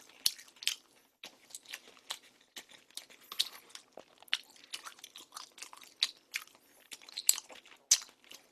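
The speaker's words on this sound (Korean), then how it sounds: "떡볶이도 먹어봅니다" Close, crisp chewing of spicy tteokbokki rice cakes during a mukbang with jjajang sauce, rapid wet crunches and bites repeating in an uneven rhythm, loud against a silent background.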